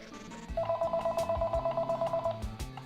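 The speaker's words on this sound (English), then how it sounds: "Now I will use this cheap track phone right here to dial this line" A cheap prepaid mobile phone dials a line connected to an Obihai Obi202 box, giving a quick run of about a dozen evenly spaced keypad tones, close and clear, with faint clicks before and after.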